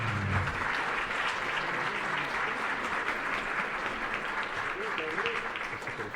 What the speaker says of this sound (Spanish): Demos un fuerte aplauso a Ricardo Luevano Barreto